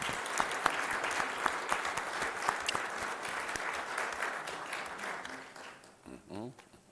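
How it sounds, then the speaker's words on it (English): A crowd at a city council meeting applauds newly elected officials, dense steady clapping filling the room before fading near the end as a voice briefly begins. "how about a round of applause for all of your newly elected"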